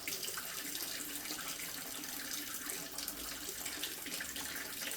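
Steady running water from a tap rinses dirt out of a removed washing machine detergent drawer, a continuous close splashing hiss with no speech.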